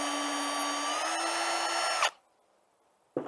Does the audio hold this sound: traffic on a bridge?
no